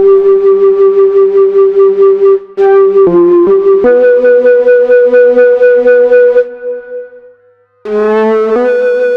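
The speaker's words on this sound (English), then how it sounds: "Here's the model flute. This is a wonderful flute type sound." A Sequential Pro 3 synthesizer flute patch plays a melodic line with a breathy, vibrato-rich sustain, loud and close, picking up a slightly distorted edge toward the end.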